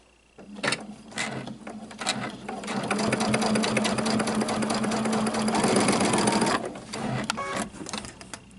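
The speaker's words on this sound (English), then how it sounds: "Just start sewing my binding down" A sewing machine stitches quilt binding down in a long continuous whirring run, close and steady, starting after a few brief bursts and stopping near the end.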